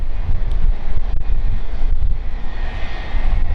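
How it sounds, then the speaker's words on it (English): Wind buffets the microphone with a constant low roar at London City Airport, and an aircraft engine drones faintly in the background. "It is rather windy today."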